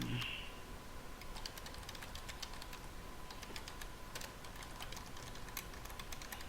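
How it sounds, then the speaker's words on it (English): Quiet, rapid tapping of a computer keyboard as credentials are typed, irregular clusters of light clicks over a faint steady hum. "so I'm going to type"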